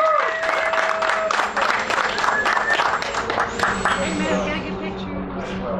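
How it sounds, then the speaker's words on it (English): Audience applause for the winners at the Pitt Race F1000 event, a steady wash of clapping with crowd noise and talk mixed through it, and a few tonal whistles or squeals riding on top. "Give these guys a round of applause."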